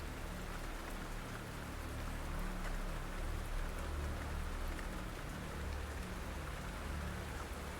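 Heavy rain pours down steadily with no letup, a dense, close hiss of drops drumming on surfaces that stays loud and even throughout.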